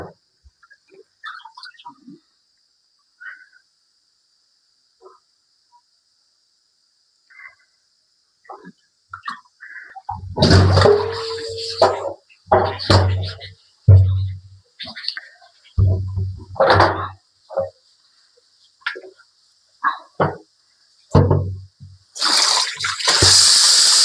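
Fish being washed with salt under water, starting near silence with faint small clinks, then bursts of splashing and sloshing in uneven rhythm close up, ending with a louder gush of running water.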